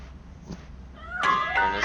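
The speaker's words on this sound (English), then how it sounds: "That cat must be hiding inside." A cat meows in RoboCop: Rogue City, two short, clear mews close by toward the end after a quiet stretch, standing alone without talk.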